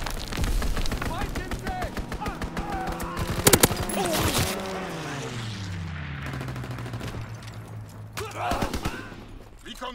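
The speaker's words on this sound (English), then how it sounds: "Fighter pilot inbound, strafing the target!" Fighter plane strafing with gunfire in a World War II Call of Duty game, dense bursts of rapid shots and booms with an engine roar sweeping past, loud and close, a voice talking over it.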